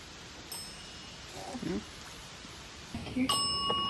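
A guest service bell at a cottage rings out clearly near the end with a lingering, bright tone. A faint ding comes earlier, with soft murmuring voices in the background.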